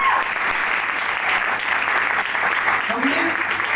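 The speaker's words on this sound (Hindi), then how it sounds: "तो एक बार उनके लिए तहे दिल से जोरदार ताली होनी चाहिए।" An audience at a business seminar applauds a visiting guest, a sustained even roll of clapping from a sizeable crowd, with a hint of voices mixed in near the end.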